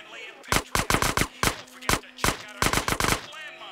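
Rapid gunfire from a weapon in GTA San Andreas, loud sharp shots fired in quick bursts of two to four with brief gaps between, close and dry, with no talk over them.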